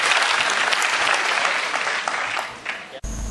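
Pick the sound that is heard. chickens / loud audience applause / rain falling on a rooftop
loud audience applause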